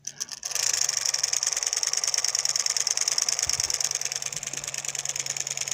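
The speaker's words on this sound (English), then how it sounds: "It gives it a feedback so it'll actually run the motor." A transistor-switched solenoid engine running: a fast, even buzzing clatter of the plunger starting after a brief stutter and continuing steadily, near and fairly loud, with no talk.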